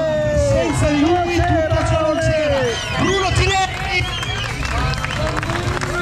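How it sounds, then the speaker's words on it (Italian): Crowd applause and cheering at an off-road Jeep meeting in an arena, a dense, steady wash of clapping with whoops while an announcer's amplified voice speaks loudly over it. "per cortesia, un grandissimo applauso per una persona senza di lui"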